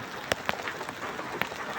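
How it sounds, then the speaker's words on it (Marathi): First rain of the season in a village: sparse, with a few distinct drops tapping close by over a soft, steady patter; quiet and unaccompanied by voices. "बघा, पहिला पाऊस आहे"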